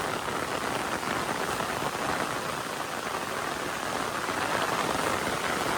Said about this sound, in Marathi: तर आता बघा एकदम खतरनाक पाऊस इलो